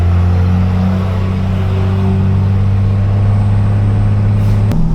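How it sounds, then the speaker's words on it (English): A dually pickup truck pulling a heavy trailer of about 8,000 pounds, its engine droning in a steady loud low rumble throughout, with a small shift near the end and no talking. "it's gonna be a slow drive back home with this truck and this trailer."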